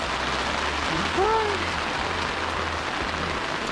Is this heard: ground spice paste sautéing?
no